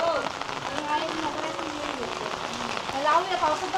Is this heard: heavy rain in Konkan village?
yes